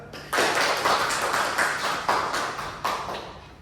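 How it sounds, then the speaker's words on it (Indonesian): A class claps for a student, a burst of clapping with sharp repeated swells that rises quickly and carries on steadily for several seconds before tapering slightly. "boleh kasih tepuk tangan untuk Junita"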